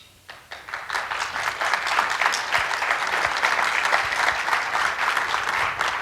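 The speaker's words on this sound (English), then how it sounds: "I saw the guy who started that clapping, and it's great to look out and see Pat Reardon, particularly when he's leading the applause" Audience applause during an FCC Chairman's opening speech, clapping rising quickly from silence and then continuing as steady, full crowd applause.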